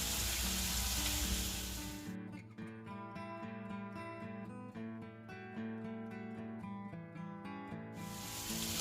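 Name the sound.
meatballs frying and browning in a pan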